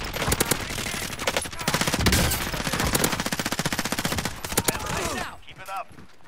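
Dense automatic gunfire rattles through a rooftop shootout in a squad-based battle royale game, with rapid bursts and overlapping shots nearly continuous for five seconds before fading, under occasional voices.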